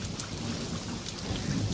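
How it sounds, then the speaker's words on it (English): Steady, dense rain hisses over a rainy day with a low rumble of thunder underneath, a continuous wash of sound at moderate loudness with no voices. "Stay home and watch the rain."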